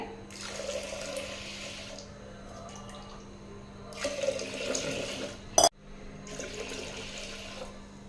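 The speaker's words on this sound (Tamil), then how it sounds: "நம்ம அரிசி எடுத்து அதே டம்ளரில் மூணு டம்ளர் தண்ணி சேர்த்திக்கலாங்க" Water runs in three separate bursts as three tumblers are poured into rice for a pressure cooker, a steady rushing pour with a brief sharp knock between the second and third.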